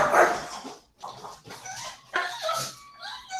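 A dog barks in a few short bursts indoors during an online physical education class session, loud at first and then repeating at intervals.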